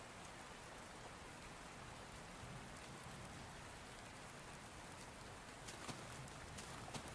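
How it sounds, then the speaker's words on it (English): Steady rain patters on a surface as a continuous, even hiss, playing as background ambience during a Minecraft Beta 1.7.3 stream, with a few brief louder drops near the end. "No, I have rain noises."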